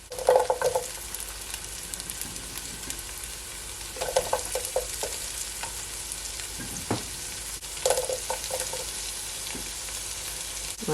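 Sweet pepper tossed into a hot pan for sweet and sour pork, a continuous sizzle with a few louder bursts of crackle and stirring clatter.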